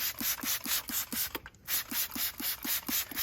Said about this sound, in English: I'm just gonna use my squirt bottle right here and just give it a couple sprays.